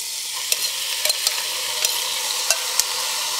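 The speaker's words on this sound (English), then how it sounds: "And now we'll add in the butternut squash." Butternut squash frying in a hot pan for a soup, a steady close sizzle with scattered sharp crackles and light stirring scrapes, no voices.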